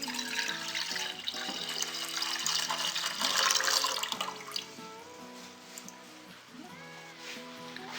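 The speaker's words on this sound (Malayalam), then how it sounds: "ഇനി ബാക്കിയുള്ള പാല് ഒരു സോസ് പാനിലേക്ക് ഒഴിക്കാം" Milk is poured from a container into a saucepan while making Arabic muhallabia pudding, a continuous gentle liquid stream running for several seconds, fairly quiet, with faint background music.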